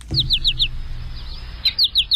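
A bird chirps in quick repeated pairs of bright notes, loud and close, first in a run of four and then again in a short burst after a brief pause.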